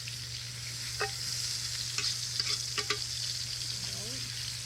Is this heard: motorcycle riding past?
no